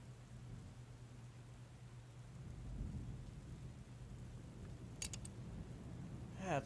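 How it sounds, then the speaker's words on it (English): Thunderstorm ambience from the video game Book of Hours: a low, distant rumble of thunder swelling midway over a steady hiss of rain, faint and continuous, with no speech. "A storm."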